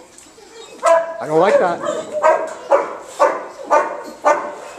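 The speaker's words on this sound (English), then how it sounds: "If I listen to her growl, she makes a growl." A frightened dog gives a series of short, repeated barks and low growls in a rhythmic run, close and loud, mixed with a person speaking over it.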